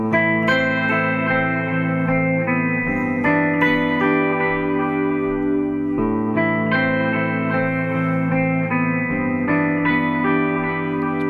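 A layered electric guitar loop from a looper pedal repeats with sustained, effect-laden chords that shift every few seconds, thick and continuous with chorus and echo.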